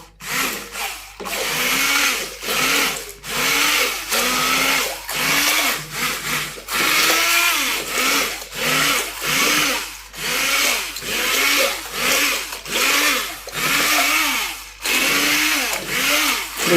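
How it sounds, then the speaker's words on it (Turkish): A homemade cocoa ice cream mixture is stirred hard and fast, giving loud repeated scraping strokes in a steady rhythm, roughly one every second, close up and with no talking. "Yani homojen bir şekilde donması için böyle karıştırmamız gerekiyor."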